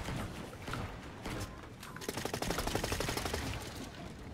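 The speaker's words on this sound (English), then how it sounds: "What was that shooting?" Rapid bursts of video game gunfire, a fast run of sharp repeated shots that start about halfway through and stay loud to the end, with game noise underneath from the start.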